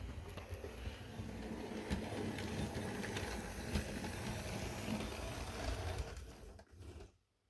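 A steam engine on a model railway, running along the track with a steady mechanical rattle and hum that fades out at the end.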